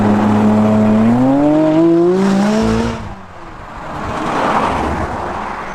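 A McLaren 570GT sports car drives along a road, its engine loud and close as revs climb in rising sweeps, then a brief lift and a softer drone before the engine builds again.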